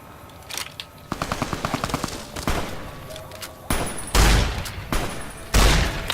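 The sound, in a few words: gunshots fired in the video game Fallout: New Vegas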